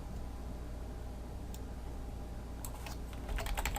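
Keys clatter on a computer keyboard in a short, quiet burst of tapping that picks up toward the end, heard over a steady low hum.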